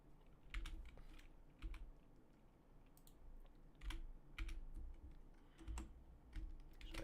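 Keys pressed on a computer keyboard during 3D modeling work in Blender, a steady series of soft clicks and taps spread over several seconds, some in quick pairs, fairly quiet with room hiss and no speech.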